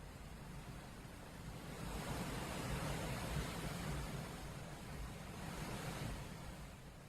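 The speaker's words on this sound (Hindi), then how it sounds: "तस्वीरों में आप देख सकते हैं पार्वती नदी का बहाव कितना तेज है।" Fast-flowing, flooded Parvati river in monsoon rain, a continuous dense roar of rushing water swelling and easing slightly, loud and steady with no voices.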